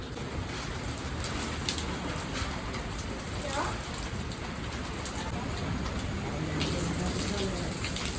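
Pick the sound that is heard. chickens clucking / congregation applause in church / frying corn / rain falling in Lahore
rain falling in Lahore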